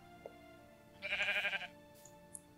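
A single sheep bleat from the Minecraft video game, a wavering harmonic cry lasting under a second, stands out mid-clip over a quiet background hum.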